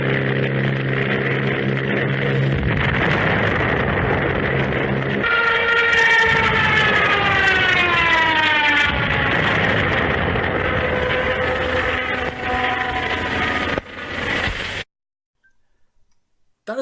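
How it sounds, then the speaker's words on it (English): A loud, wailing Jericho siren of a World War II German Stuka dive bomber rises and falls over a roaring engine, sweeping steadily in pitch before cutting off abruptly into near silence. "what does the original Jericho trumpet sound like?"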